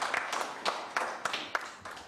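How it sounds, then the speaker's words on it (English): A few people clap for a speaker at a policy forum, with a sparse, uneven patter of hand claps at about one beat every third of a second, faint and brief. "Let's just give another round of applause to Dr."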